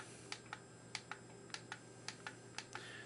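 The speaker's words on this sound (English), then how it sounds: "The clicking you hear is on this transmitter, not inside here." Buttons on a solid-state firework firing system transmitter click sharply about a dozen times in an uneven sequence, crisp and close against a faint steady background hum.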